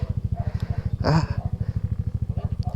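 A Honda CB650R motorcycle starting up: a loud, steady four-cylinder engine pulsing at idle close by, with a brief sharper burst in the middle.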